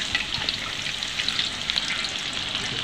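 Butterfly chicken pieces fry gently in oil over a low flame, giving a close, steady crackling sizzle with small popping spatters and no voices.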